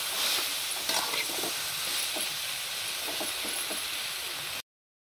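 Spinach greens sautéing in oil give a steady broadband sizzle with faint stirring scrapes, close and fairly loud throughout before cutting off abruptly near the end.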